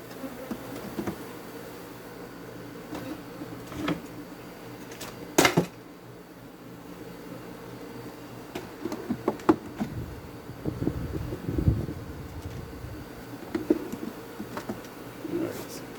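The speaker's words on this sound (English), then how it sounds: "those bees, they're that active." Africanized honey bees buzz around an open hive in a quiet, steady drone, with occasional closer fly-bys, faint handling knocks and clicks of the frames, and a few low murmured words.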